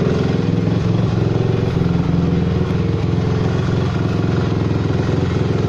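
A 2005 Honda CRF 250 R dirt bike idles close by, its single-cylinder engine putting out an even, rapid thumping burble with a light mechanical clatter, steady and loud throughout with no voices.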